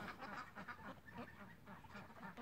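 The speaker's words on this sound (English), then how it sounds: "The ducks are out playing in it" Several ducks outside in the snow quack and honk in a busy, overlapping chorus. The sound is faint and distant and runs continuously.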